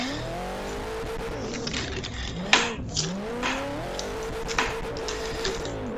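A four-door Nissan R32 accelerates in fifth gear on a track, its engine note sweeping upward in a loud, close drone with gear-like rising tones, brief sharp bursts and some tyre noise over a steady roar.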